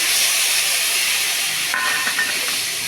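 Spice paste tipped into a hot pan of ghee for a Bengali vegetarian pointed gourd dalna, giving a steady, loud, hissing sizzle that runs throughout with a few small crackles.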